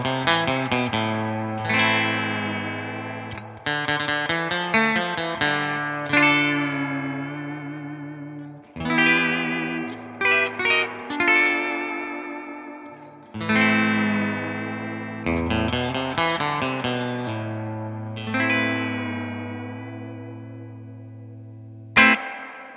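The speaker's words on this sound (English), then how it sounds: "Let's just max out that reverb and let's see what that sounds like." Electric guitar chords through a Supro amp with its reverb turned to maximum, each strum ringing out in long washing echoes that trail off between phrases, with no voices.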